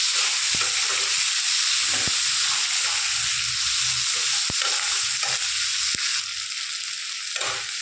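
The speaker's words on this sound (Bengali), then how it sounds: "এবার আমি দিয়ে দেবো পেঁয়াজ কুচি, আর দেবো টমেটো আর কাঁচা লঙ্কা কুচি। এটাকে আমি ভালো করে ভাজবো।" Chopped onion, tomato and green chili fry loudly in a pan with a continuous close sizzle and hiss, broken by a few sharp spatula knocks while stirring, with no talk.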